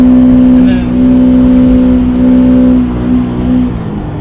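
Subaru BRZ engine droning at steady revs while drifting on the Utah salt flats, a sustained low engine note that holds and eases slightly, with someone talking over it throughout.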